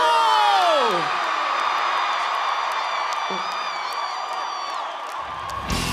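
A crowd at a Christian concert at the PHN camp shouts, whoops and cheers in a dense, sustained roar, with a shrill whoop rising above the noise and a loud burst near the end.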